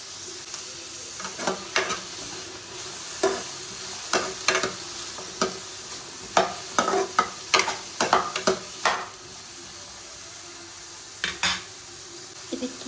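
Ginger frying in a hot pan, with a soft background sizzle and bursts of quick metallic scrapes and clinks as it is stirred, near and intermittent with quieter pauses between.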